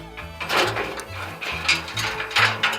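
A ratchet wrench backs bolts off a haybine tine bar flange, with repeated close clicking ratchet strokes in an uneven rhythm of short bursts, loud and alone.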